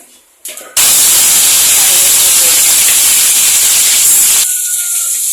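Fennel seeds dropped into hot coconut oil, an abrupt loud sizzling hiss that bursts in after a brief clatter and holds steady for several seconds before easing slightly.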